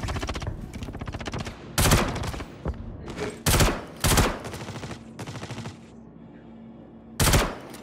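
Automatic gunfire during a bunker mission in the sci-fi game Star Citizen: loud, rapid bursts of shots in repeated volleys, separated by short pauses, with a quieter hum underneath.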